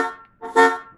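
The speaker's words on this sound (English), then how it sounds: "if I were to honk the horn now" A car horn from a Ford Mustang instrument-cluster CAN-bus project sounds in two short honks, the second louder and fuller, close and alone.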